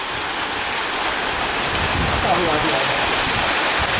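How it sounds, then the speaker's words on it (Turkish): Hail pelts down in a field, a dense hissing patter that stays loud and constant throughout. "Arkadaşlar bu dolu yağıyor resmen yağmurda kaldık."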